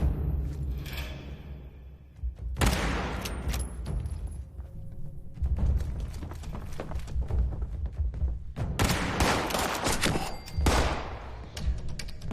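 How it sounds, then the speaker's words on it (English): Gunfire in Fallout 76 comes as several bursts of heavy shots and thuds spread across the stretch, loud and close, with quieter gaps between them. "Hey, no fair shooting."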